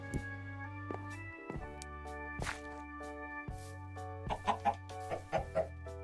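Synthetic Minecraft chicken clucks, a few short bursts over a steady tonal backdrop of looping game music.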